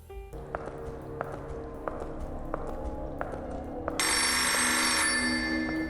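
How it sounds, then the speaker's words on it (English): In the mobile horror game Forgotten Memories, a steady electronic tone under repeated regular footstep-like taps, then a telephone's bright, continuous ringing starts partway through, loud and close. "A ringing phone back in the hall replays a conversation from our past."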